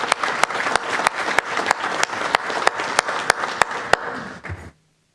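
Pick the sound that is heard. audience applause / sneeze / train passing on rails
audience applause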